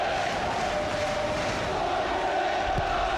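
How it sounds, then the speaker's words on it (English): A football crowd in a stadium roars and chants steadily in a continuous wall of distant, massed voices, with no pause across the few seconds. "Now the crowd are trying to get behind them"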